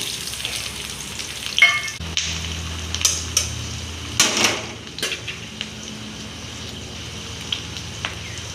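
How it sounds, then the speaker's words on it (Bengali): A steady sizzle of onion frying in a pan, with occasional scrapes and clinks of a utensil stirring against the metal. "পেঁয়াজটা সামান্য ভাজা ভাজা হয়ে এসছে"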